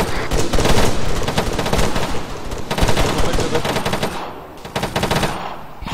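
Sustained bursts of automatic weapon fire from a military shooter game, loud and close, rattling in rapid repeated volleys with a brief lull near the end before firing resumes.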